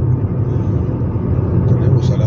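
Street traffic in Montevideo, Uruguay, heard from inside a moving car: a steady low engine and road rumble, close and fairly loud, with no distinct horns or passing events.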